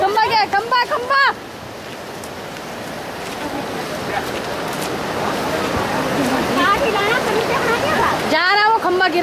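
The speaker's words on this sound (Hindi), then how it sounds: "ये अंदर आ गया पानी, बढ़ रहा है पानी, बढ़ रहा है।" Rising floodwater in Uttarakhand rushes in a loud, steady roar that swells over several seconds, with people shouting urgently at the start and again at the end.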